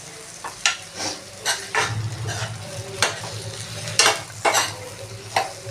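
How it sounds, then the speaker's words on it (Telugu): Taro pieces fry in oil with turmeric, a steady sizzle broken by repeated rhythmic scrapes and clinks of a spoon stirring the pan. "చామందుంపలు వేసుకుని బాగా వేగాలి."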